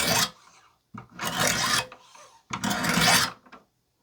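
A knife blade strokes across 200 grit stones on a Wicked Edge Carbon WE40 sharpener, three slow, close, gritty rasping passes separated by short pauses.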